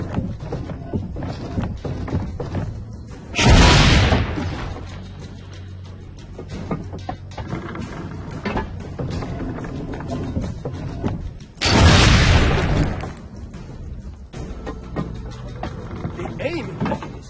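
Two loud, booming cannon shots in Assassin's Creed Brotherhood, spaced several seconds apart, each a broad blast that stands out over steady background game noise and voices.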